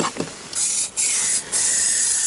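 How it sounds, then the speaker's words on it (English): Aerosol cleaner sprayed under a 2WD Ford Ranger to clean up spilled engine oil during an oil change, two long loud hissing blasts separated by brief pauses, close up. "I'm going to give it a quick spray down"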